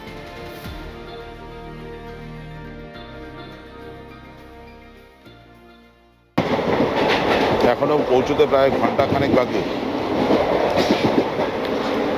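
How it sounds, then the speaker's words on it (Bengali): A train running on rails, heard from an open carriage door during a morning journey; the first half carries a steady tonal hum, then a loud burst of dense rattling wheel noise takes over, with a brief spoken line. "সকালের এই ছোট্ট ট্রেন জার্নির বেশিরভাগ টাইমটাই কেটে গেল ট্রেনের দরজায় দাঁড়িয়ে দাঁড়িয়ে"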